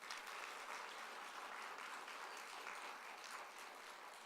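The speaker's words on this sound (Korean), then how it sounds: "우리 박수 한번 해주세요." A church congregation applauds during a Sunday service, a steady wash of many hands clapping at moderate distance, continuous and even for the whole stretch.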